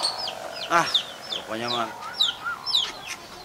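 Chickens clucking and squawking close by in a yard, several sharp bursts of cackles in quick succession, with a short spoken phrase among them.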